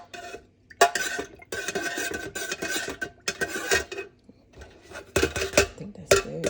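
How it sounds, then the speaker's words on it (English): Metal spoon stirring fragrance oil into melted GW-454 and beeswax candle wax, clinking and scraping against a pouring pitcher in bursts with short pauses, close and fairly loud. "I like to just sit this right here while I stir"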